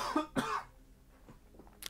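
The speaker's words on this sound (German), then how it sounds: "Jetzt fängt auch noch der Husten an." A man coughs twice in quick succession, close and fairly loud, followed by quiet breathing and faint small noises.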